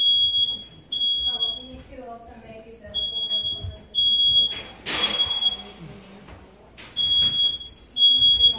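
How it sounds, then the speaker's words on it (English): A smoke detector beeps in repeated high-pitched bursts, roughly one per second, during a live stream, with a loud rustling burst in the middle and faint background movement. "The smoke detector went off."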